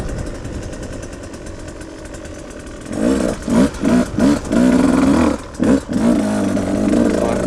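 A 2022 Husqvarna TE 150i dirt bike engine, still warming up, runs at low speed, then revs in short repeated bursts before settling into a steady, loud drone close by.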